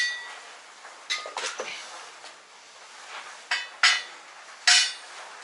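Heavy steel anvil plates from a 12 tonne shop press being handled, giving several separate metallic clanks and clinks spread across a few seconds, fairly close, with quiet gaps between.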